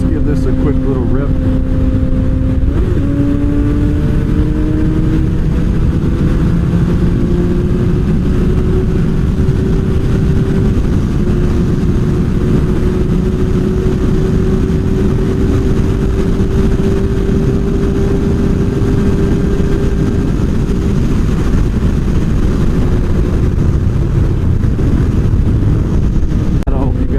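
Motorcycle engine revving on a quick ride after winterizing, a continuous close, loud engine drone with a brief pitch jump early on, then a steady rising and falling tone over heavy wind rumble for nearly half a minute.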